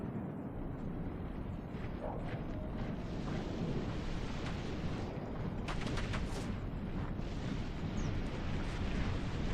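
Troops fire musket volleys in a battle in the Third Age Total War video game, a dense, rumbling mass of distant gunfire under wind-like battle noise, with a few sharper cracks standing out.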